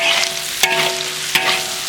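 Fern shoots and garlic sizzle and crackle in hot oil, with two sharp scraping clanks of a spatula against a wok breaking the steady hiss.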